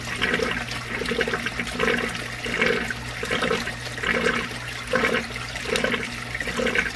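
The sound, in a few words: water flowing into DIY bucket pond filter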